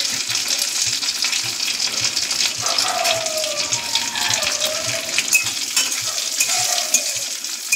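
Cashews and raisins fry in hot ghee, a continuous bright crackling sizzle with faint scraping and stirring beneath, close and steady throughout.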